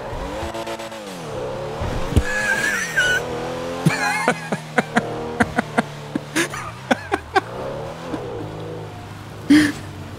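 A stolen car in GTA 5 revs and pulls away with tires skidding and squealing, the engine rising and falling loudly alongside sharp clicks and knocks, with no one speaking.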